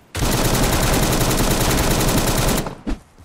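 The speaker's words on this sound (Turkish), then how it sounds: "uzaktan vuruyor. Çıt çıt." Rapid gunfire in the 2D battle royale game Surviv.io, a dense continuous burst of shots lasting over two seconds, then cutting off, followed by a single short crack; loud and with no talk.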